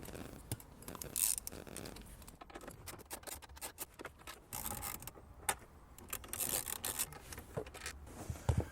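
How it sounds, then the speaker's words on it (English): Four 10mm bolts being removed from the radio panel of a 2018-2019 Lexus LS500, giving faint, close ratcheting clicks and rubbing scrapes in an irregular rhythm with no talking. "So in total, there's 4 10mm bolts holding this radio piece. We're going to remove them."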